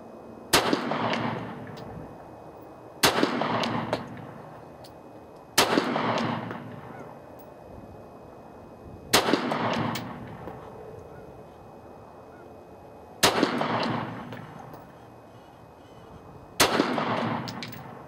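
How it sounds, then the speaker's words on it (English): Six loud, sharp pistol shots from a Norinco NP-17 9mm fired at outdoor targets, spaced a few seconds apart, each followed by a lingering echoing tail with no talk between them. "so I might as well shoot at them."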